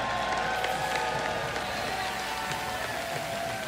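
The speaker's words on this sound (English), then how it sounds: "everyone's still cheering" An arena crowd at an esports award ceremony for IEM San Jose champions keeps up a steady, loud wash of applause and cheering, with a constant dense roar of clapping and no pauses.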